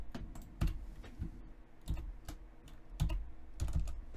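Keys clatter on a computer keyboard during a live motion graphics editing session, sharp close clicks in irregular short bursts and single taps over a quiet room.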